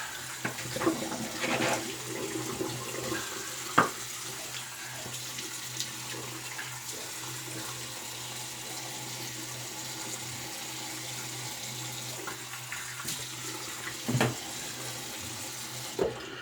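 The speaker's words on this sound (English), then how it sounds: "cold water rinse. Get that. Work that brush out." A shaving brush is rinsed under running cold water from a tap, a steady close splash with a few soft knocks.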